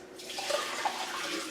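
Cooking water from boiled Buddha's hand citron drains out of a pot in a steady, close rushing pour with a few brief splashy gurgles, no voices.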